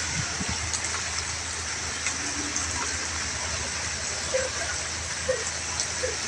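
Steady heavy rain pours down in the afternoon, a dense, even hiss of water with faint scattered sounds layered over it and no one speaking.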